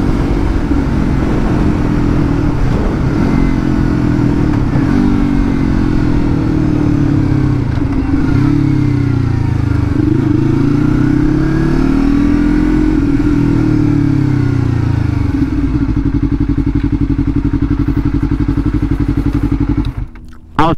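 A motorcycle rides at speed, its engine roar loud and continuous with wind noise as it shifts up through the gears, then cuts away abruptly at the end.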